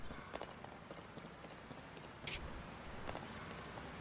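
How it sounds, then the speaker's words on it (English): Steady rain falls in the video game Zelda: Tears of the Kingdom, a soft continuous hiss of drops on surfaces with a few brief brighter splashes, heard alone without talk. "it's raining. Now we can't climb."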